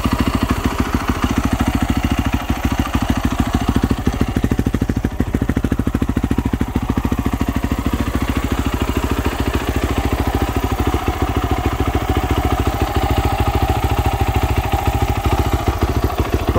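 A 2010 Yamaha YZ450F motorcycle idles loudly and close by, its engine firing in a rapid, steady rhythm of mechanical clatter with a deep low rumble. The sound stays unbroken from start to finish, with no voices.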